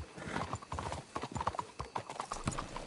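Steady clip-clop of horse hooves on a hard surface in the video game Red Dead Redemption 2, a brisk trotting rhythm, fairly close, with faint background ambience.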